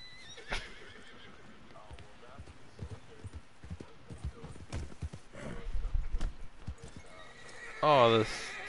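Horse hooves clip-clop in the Red Dead Online video game, a string of soft, close, irregular footfalls, with a sharp horse whinny near the end and scattered game effects around them.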